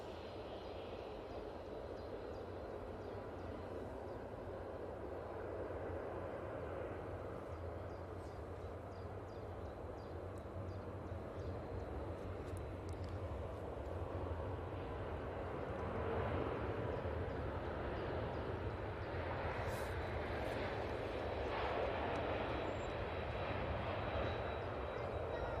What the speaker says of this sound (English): Emirates A380 on short finals now